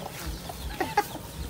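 A few soft clucks from chickens on a durian orchard farm in Tiền Giang, brief and faint over quiet outdoor background noise, without talk.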